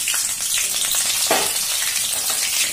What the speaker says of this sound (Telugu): ఇందులో పచ్చిమిర్చిని వేసుకుందాం.